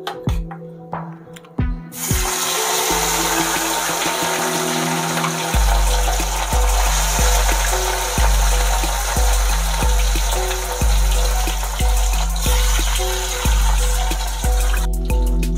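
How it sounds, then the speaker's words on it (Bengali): Pieces of rohu fish hit hot oil in a kadai with a sudden loud sizzle, then a steady, dense crackling fry with rhythmic spattering pops that continues throughout. "মাছগুলো ভেজে নেব"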